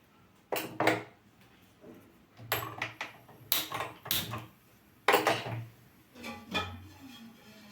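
A stone griddle set onto a stove in a home kitchen before making chapatti gives a series of clattering knocks and scrapes, some louder than others, spread out with short pauses between them.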